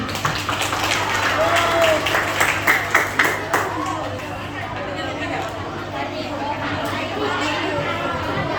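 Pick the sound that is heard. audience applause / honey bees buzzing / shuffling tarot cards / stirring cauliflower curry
audience applause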